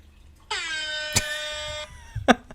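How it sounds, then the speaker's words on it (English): A phone app plays a synthetic air horn blast, one sustained buzzy honk of over a second, with a sharp click in the middle and another click near the end. "I was trying to use this air horn"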